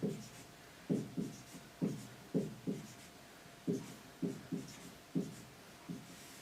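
Chalk or marker strokes on a board while an answer is written out during a mathematics lecture, a series of short scraping bursts in irregular clusters, fairly close and moderately loud, with no talking.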